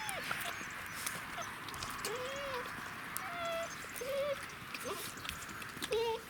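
Czechoslovakian wolfdog puppies suckle from their mother in a whelping pen, giving several short high whimpers and squeaks over a soft hiss of background noise, with a voice speaking now and then.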